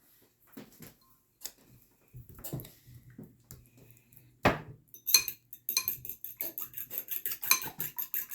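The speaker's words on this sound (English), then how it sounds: "Beating the egg." An egg beaten in a bowl, scattered knocks at first then a quick run of light metallic clinks as a fork whisks against the rim, close, with brief voices early on.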